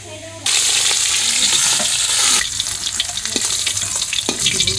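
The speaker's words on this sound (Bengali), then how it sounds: "ফোড়নে দেবো কালো জিরে" Black cumin and dried red chillies hit hot oil for tempering, bursting into a sudden loud sizzle that then settles into a steady crackling fry, with a few stirring scrapes close by.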